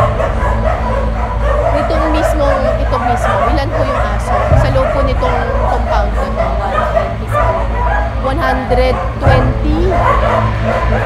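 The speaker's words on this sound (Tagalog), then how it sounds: "Nasa labas pa lang ng shelter ang bagong aso, malakas na ang kahulan ng mga aso sa loob." Many dogs bark, yip and whimper together inside a crowded animal shelter compound holding about 120 dogs, a loud, continuous chorus with people talking over it.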